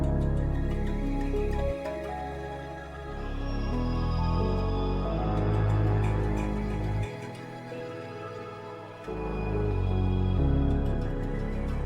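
An Afrobeats melody built in FL Studio, panned and filtered with a telephone-style EQ plus delay and reverb, plays steadily as a full, smooth loop with bass and chords underneath; no voices.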